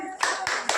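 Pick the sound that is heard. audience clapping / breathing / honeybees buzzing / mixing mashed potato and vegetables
audience clapping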